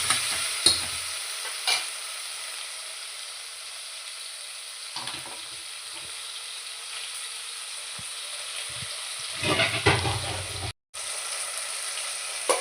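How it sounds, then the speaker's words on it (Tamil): Tomatoes sauté in oil in a pan, a steady soft sizzle broken by a few louder scraping stirs near the start and end, close and with no talking. "தக்காளி கொஞ்சம் வதங்கட்டும்"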